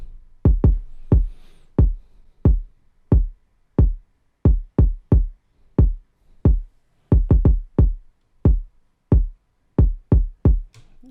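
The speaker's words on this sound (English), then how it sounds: "So next of us, I added a kick which sounds like this." A punchy kick drum from an Afrobeats beat thumps alone in a steady, deep pattern of roughly two dozen loud hits, some landing in quick doubled pairs.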